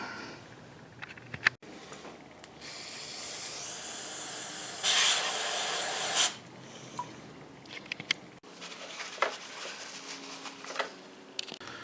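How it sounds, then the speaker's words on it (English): An aerosol can of brake parts cleaner sprays onto a small engine's valve and seat, a steady hiss running for several seconds that swells into a louder, closer burst before stopping, with light handling clicks after. "I'm going to take some brake parts cleaner and clean everything up."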